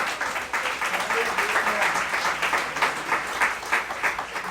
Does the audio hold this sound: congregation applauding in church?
yes